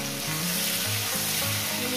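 Okra and potatoes fry in a pan with a dense, even sizzle and a constant hiss of hot oil, close and loud throughout.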